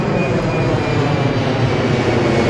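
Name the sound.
airplane flying overhead near London City Airport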